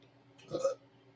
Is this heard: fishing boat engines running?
no